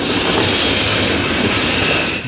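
A refurbished tram rolls along city rails in Novosibirsk, its close, loud, steady rumble mixed with wheel clatter on the track.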